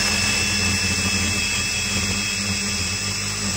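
An impact drill fitted with an Armeg masonry impact bit grinds into concrete in one continuous, loud, close whine that holds steady for several seconds with no pauses and no voices.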